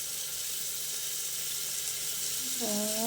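Spices sizzle lightly in a pan in a soft, steady hiss, close by, with a brief tonal squeak near the end and no talking.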